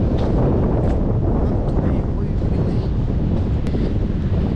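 Strong wind buffets the microphone in a constant roaring rush on Kovalam beach, with a hint of distant surf underneath.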